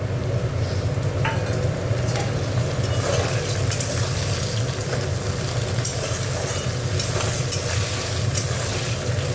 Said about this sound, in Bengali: এখানে টমেটো আর কড়াইশুঁটিটা দিয়ে দেবো।